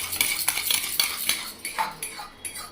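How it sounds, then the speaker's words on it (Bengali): A utensil scrapes and clinks against a hot pan as eggs are fried with onion and salt, making quick irregular metallic strokes close up, with only a faint sizzle underneath. "পেঁয়াজ দিয়ে নুন দিয়ে ডিম ভেজে নিচ্ছি ভালো করে"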